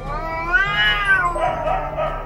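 Cats meow and caterwaul in a long, drawn-out wavering cry in Paper Mario: The Origami King, loud and close over a soft game backdrop.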